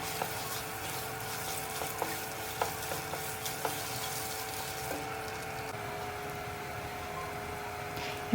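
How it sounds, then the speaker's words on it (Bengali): Chinigura rice fries in a pot for beef tehari, a low, steady sizzle broken by a series of light scraping clicks as a spoon stirs the grains. "কিছুক্ষণ ভেজে নিব"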